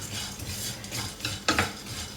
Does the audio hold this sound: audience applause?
no